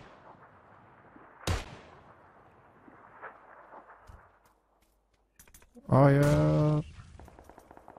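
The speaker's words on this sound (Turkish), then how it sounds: "Tam isabetli bomba atıyorlar ya" Grenade explosions and gunfire in PUBG Lite: one sharp blast early, faint scattered shots, then a loud burst of noise near the end, with someone speaking briefly.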